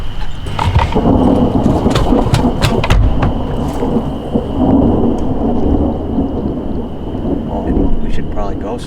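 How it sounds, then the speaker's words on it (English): Thunder rumbles over rain starting on a river during a walleye fishing trip, a loud continuous rushing wash with low rolling booms and a steady tone, and people talk faintly underneath. "Oh God, it's starting to rain."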